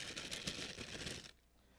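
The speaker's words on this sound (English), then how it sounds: "we take the cards, we put it inside the bag, and we give it" A deck of cards shaken inside a brown paper bag makes a dense papery rattling and rustling for about a second, close and fairly loud, then cuts off into quiet.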